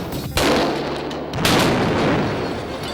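A trombone rigged with firecrackers packed into its mute is blown up, giving two loud, sharp blasts about a second apart, each followed by a rumbling, noisy tail.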